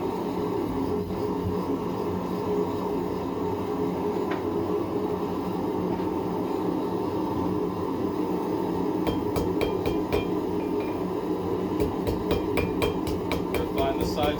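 Hot steel is hammer-forged and drawn out into a taper in a cold workshop, with a run of ringing hammer strikes over a steady rumbling background hum, a first cluster and then a second.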